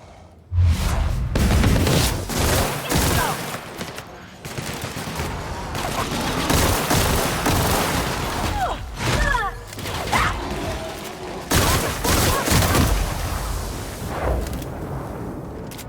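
Dense, sustained gunfire from a favorite gun during a firefight in the video game The Outer Worlds, with loud rapid shots, bursts and impacts filling most of the stretch.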